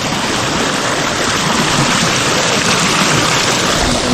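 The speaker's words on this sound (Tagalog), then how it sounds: "Malakas ng tubig po" Loud, steady rushing water pours strongly past a garden plot, a dense broadband roar that fills the whole stretch without letting up and with no voices over it.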